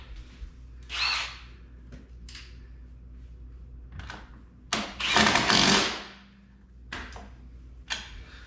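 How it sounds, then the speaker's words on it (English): A power tool tightens the axle nut on a snowmobile track's rear suspension in several short bursts, the longest near the middle, with faint clicks and handling noises and a low steady hum between them. "And then we're going to want to tighten the axle nut"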